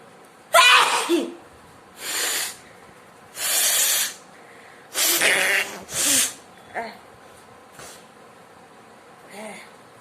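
Repeated human sneezes, about six bursts spaced irregularly, loud and close, with wet nasal trailing sounds between them and a fainter sneeze near the end.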